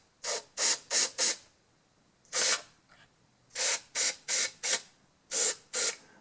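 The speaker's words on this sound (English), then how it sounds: "Now I am going to unplug it before I spray in there." Aerosol cleaner sprayed into a scratchy volume control, heard as short hissing bursts close up: a quick run of four, a single longer blast, then two further clusters of rapid spurts separated by quiet pauses.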